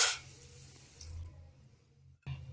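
Just under half a cup of water is poured into a bowl holding half a cup of sugar for a syrup. A soft splashing pour opens the clip, quiet handling follows, and a second brief pour comes near the end.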